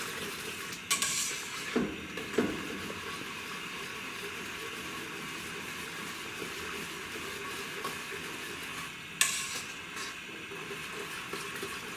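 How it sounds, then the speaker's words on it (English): A flour-thickened sauce for green tomato lasagna is stirred in a pan, giving a quiet, steady bubbling and scraping with a couple of sharp utensil clinks against the pan. "So we're going to constantly watch it,"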